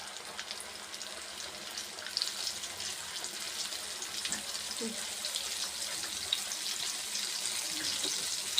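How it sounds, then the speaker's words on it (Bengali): Chicken pieces fry in hot oil in a wok for a home-style chicken fry, giving a steady, even sizzling hiss throughout with small crackles and pops. "এখন আস্তে আস্তে এটাকে ভেজে নেব"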